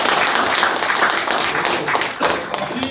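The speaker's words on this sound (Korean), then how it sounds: "박수 한번 크게 쳐주겠습니다" Audience applause at a fire station volunteer brigade leaders' inauguration ceremony in Nonsan, steady dense clapping from a crowd filling the room, loud and continuous with a few sharper claps standing out.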